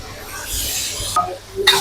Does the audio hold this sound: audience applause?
no